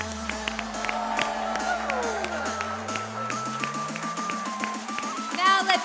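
A crowd at the Special Olympics 2025 cheers and applauds for cross-country skiers: steady clapping and whooping with a sweeping musical tone, rising to a louder burst at the end.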